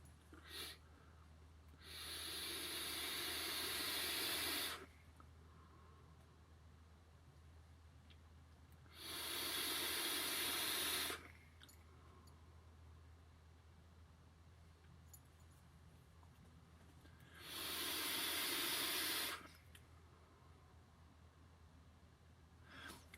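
A Geekvape Griffin 25 vape fired at about 70 watts with the airflow wide open gives three long, airy hissing draws of a few seconds each, separated by quiet pauses, close and fairly loud with no talking.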